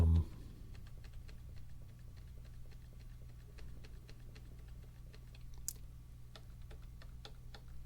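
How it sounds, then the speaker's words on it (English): Quiet, steady clacking of keys as someone types on a computer keyboard, light rapid taps over a low background hum. "It's just a basic sort of keyboard."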